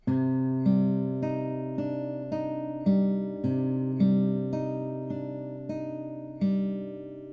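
A fingerpicked acoustic guitar pattern plays alone, notes plucked one by one in a steady repeating cycle, ringing clearly and close.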